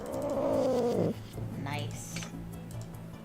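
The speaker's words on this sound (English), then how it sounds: "Yay, robot cat." Pink, shiny robot cat in the Nancy Drew game The Deadly Device gives a tonal, purring mew that slides downward for about a second, then fades into low background hum with faint game sounds.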